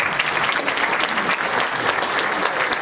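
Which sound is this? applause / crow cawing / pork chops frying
applause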